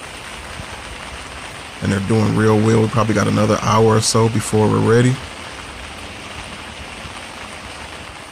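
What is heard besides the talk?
rain falling outdoors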